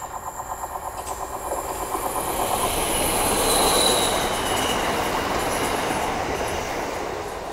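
A train rumbles past close by, its wheels clattering and squealing as the loud roar builds and holds.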